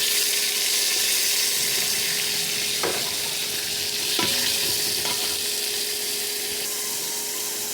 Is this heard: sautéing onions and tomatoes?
yes